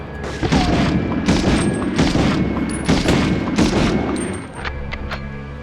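Gunfire in the 1999 video game Medal of Honor, loud repeated shots and booming bursts arriving in irregular volleys close up, with brief pauses between bursts.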